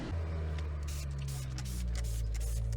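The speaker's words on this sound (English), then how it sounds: "I absolutely love this pressure washer" Pressure washer spraying a car, a loud close hiss of high-pressure water with a low motor drone underneath, continuous with slight pulsing bursts.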